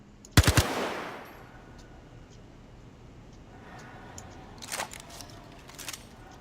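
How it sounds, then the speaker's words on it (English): A short, loud burst of rapid automatic gunfire erupts in the Star Citizen video game, followed by a few faint sharp clicks and shots over quiet ambient background. "Started to let out a few burst rounds."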